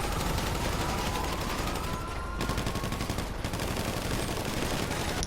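Dense, continuous gunfire rattles without pause in the GTA V Rockstar Editor video game, with bursts overlapping into a loud, steady barrage.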